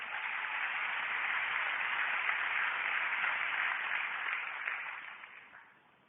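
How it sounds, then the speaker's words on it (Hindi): Loud, sustained applause from a seminar audience greeting a guest, a dense wash of clapping that holds steady for several seconds before tapering off at the end. "उनके लिए एक जोरदार ताली मैं चाहूंगा प्लीज"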